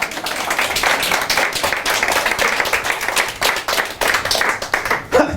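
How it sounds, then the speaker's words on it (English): A stand-up comedy crowd in a bar gives loud, close applause with sharp individual claps and some whoops, briefly thinning out near the end. "That always gets the applause."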